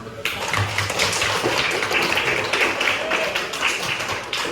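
An audience at a classroom session on differentiated learning breaks into applause, a dense burst of many hands clapping that starts abruptly and carries on steadily at close range, with a voice faintly under it.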